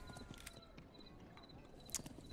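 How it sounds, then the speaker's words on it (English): Horses in the video game Thronefall clip-clop in quick, irregular hoofbeats, faint and dense like a group on the move, with a bright sharp blip near the end and no talk. "35 horses from all three sides"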